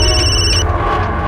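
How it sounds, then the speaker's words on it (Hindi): A telephone bell rings loudly indoors in a household scene from a Hindi TV crime drama, with two quick repeated rings that cut off partway through. "मम्मी तुम्हारा फोन आ गए छे।"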